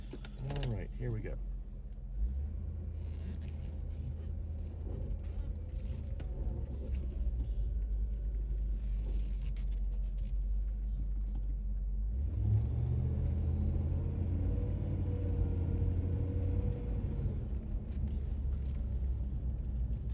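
A D2 engine fitted with dual electric cooling fans runs and revs up under acceleration, giving a low steady rumble with a rising surge partway through, moderately loud, with faint voices in the background.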